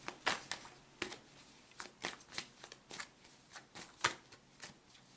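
Tarot cards are shuffled by hand in a series of quick riffling snaps and soft flicks, close and quiet in an otherwise still room.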